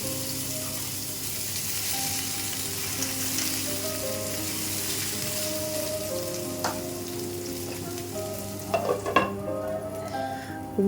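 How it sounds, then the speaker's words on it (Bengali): Pumpkin pieces fry in a pan with a steady, continuous sizzle, and a few metallic scrapes and clinks of a utensil against the pan come near the end. "কুমড়ো ভাজি করছি"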